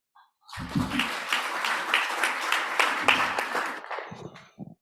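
An audience at a resources conference livestream applauds a speaker with sustained clapping for about four seconds before it tapers off.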